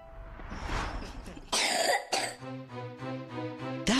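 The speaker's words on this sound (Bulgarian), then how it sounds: "Давите влажна кашлица," Several wet, chesty coughs and throat clearing burst out one after another, close and fairly loud, ahead of a short musical jingle.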